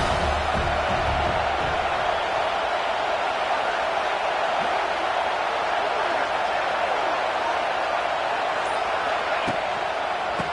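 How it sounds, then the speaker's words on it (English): A dense, steady roar from a large stadium crowd at an American football game fills the whole stretch at an even loudness, with no distinct cheers rising above it. "This crowd trying to make life miserable for this offense."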